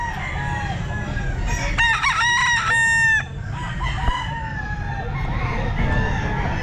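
A gamecock rooster of the El Gamma Grey line crows loudly once, close by, at a busy pet market, with other clucking fowl and crowd noise around it.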